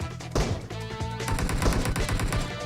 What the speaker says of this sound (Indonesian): Astaga, ada tembak